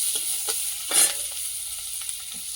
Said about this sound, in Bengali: কড়াই দিয়ে দেবো পেঁয়াজ